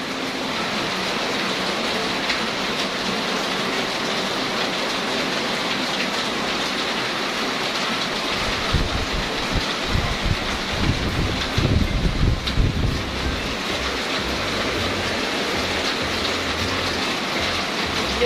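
Heavy rain pours steadily, a dense broadband hiss of drops on surfaces with some gusty low rumble midway, no voices.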